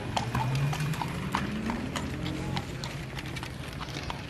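Hooves of a single horse clip-clop in a steady, fairly close rhythm on a street in Germany, with faint background noise and a low engine drone underneath.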